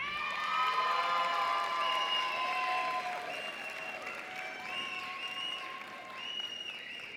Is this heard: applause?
yes